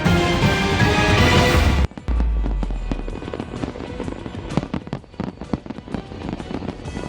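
New Year fireworks display with drones in Ras Al Khaimah, UAE: a dense roar of launches gives way to rapid crackling and popping bursts, loud and continuous, with no speech.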